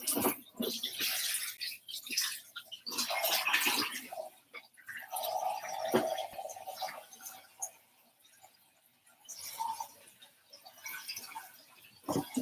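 Running tap water rinses the green part of a water filter pitcher, giving an uneven splashing hiss that comes and goes, close but fairly quiet, with no talk.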